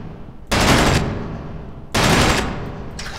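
Assault rifle gunfire at popup targets in the video game Space Engineers: two loud, close bursts of rapid automatic fire, each about half a second long, with a third burst starting at the very end.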